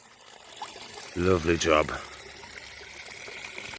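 Water pours and trickles steadily out during a garden pond water change, with a brief spoken remark partway through.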